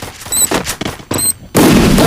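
Grenade blasts and gunfire in a video game, coming as sharp close bursts with short gaps before a sustained heavy roar of fire at the end.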